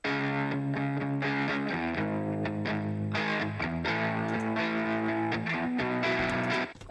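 A distorted electric guitar, played through a British Guitar B1 amp simulation on boost with a tremolo effect, chugs chords in a pulsing, repeated rhythm for several seconds, alone with no talking.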